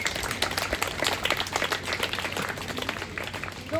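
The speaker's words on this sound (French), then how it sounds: "Applaudissez-les." Scattered audience clapping in a classroom during a lesson on characters of Latin comedy, a dense patter of hands held at a steady moderate level for a few seconds.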